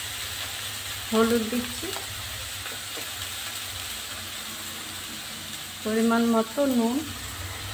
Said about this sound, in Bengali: তেলটা গরম হয়ে গেছে, এবারে আদা বাটা দিয়ে দিচ্ছি।